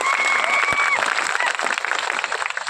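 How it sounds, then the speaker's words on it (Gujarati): Crowd claps loudly and steadily at a birth anniversary celebration, a dense sustained wash of hands with a brief voice near the start. "આપણે સૌ એમના માટે એકવાર જોરદાર તાળીઓ પાડી લઈએ"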